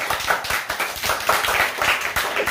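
Children at a tuition class clap loudly and fast for a math tables competition winner, a close, bright flurry of hand claps pulsing in uneven bursts.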